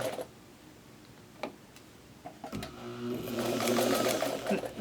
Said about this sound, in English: And we're going to back stitch.